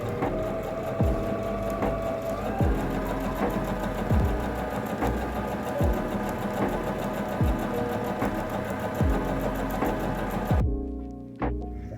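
A Brother BM3850 sewing machine stitches a straight seam, its needle thumping in a quick, even rhythm over a motor whir for about ten seconds before stopping abruptly.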